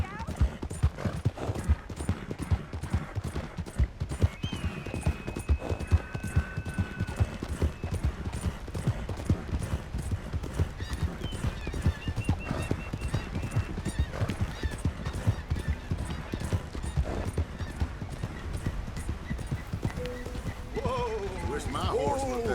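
Horse hooves clip-clop steadily in Red Dead Redemption 2, a continuous rhythmic trot running the whole time beneath talking, an occasional whinny and other game sounds.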